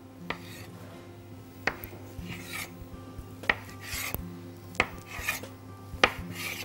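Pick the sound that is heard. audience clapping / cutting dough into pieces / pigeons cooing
cutting dough into pieces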